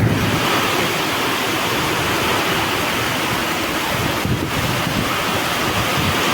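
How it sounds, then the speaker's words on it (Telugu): Strong wind roars across the microphone in a constant, heavy rush, broadband and unbroken for several seconds, with no voices. "విపరీతమైన గాలండి బాబోయ్"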